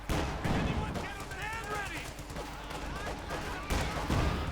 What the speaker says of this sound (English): Quick artillery barrage in.